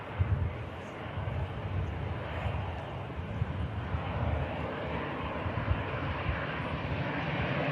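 An EasyJet airliner taxis at Manchester Airport, its engines giving a steady, broad, close rumble that holds at an even level throughout, with no voices over it.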